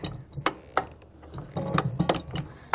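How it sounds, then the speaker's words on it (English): The manual emergency handle on a Lofrans Tigres anchor windlass is cranked back and forth, giving sharp, irregular mechanical clicks and ratcheting clunks close by. "Put the handle in the emergency socket hole, draw forward"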